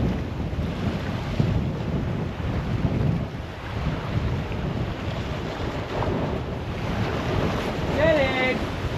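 Wind buffets the microphone while waves wash steadily around a small boat at sea during a fishing trip, a loud continuous rumble and hiss with a brief whistling squeal near the end.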